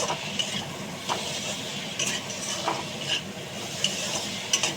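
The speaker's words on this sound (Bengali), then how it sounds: "আমি আদা রসুনের পেস্টটা দিয়েই দিয়েছি, দিয়ে এবার এটাকে ভালো করে নাড়ব।" Capsicum and potato pieces with ginger-garlic paste are stirred in a pan, steady scraping and soft sizzling throughout with occasional sharper clinks of the spoon against the metal, close and continuous with no talk.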